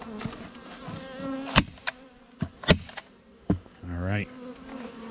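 Honeybee stragglers buzz around a hive being moved. Individual bees drone in and out close by, mixed with sharp knocks and clicks of handling equipment and a brief rising whine.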